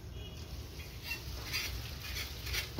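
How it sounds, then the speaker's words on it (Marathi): Pasta tipped into a pan of masala, giving a steady close sizzle with soft stirring scrapes and light patter throughout, ending in a brief clink. "त्याच्यामध्ये आता पास्ता टाकून घेतो मी."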